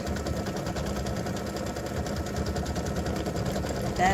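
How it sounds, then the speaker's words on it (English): A home embroidery sewing machine running a travel stitch while making a freestanding-lace candy cane earring, its steady rapid needle chatter and motor hum continuous throughout, with a brief higher whirr at the very end. "I will go back and put in a travel stitch so that it does not cut"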